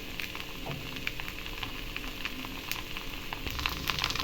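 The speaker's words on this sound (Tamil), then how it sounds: "சுற்றிலையும் கொஞ்சமாக எண்ணெய் விட்டுக்கலாம்" Corn dosa batter cooking in a thin film of oil on a hot pan gives a steady close sizzle, dotted with sharp crackles and pops throughout, with no talking.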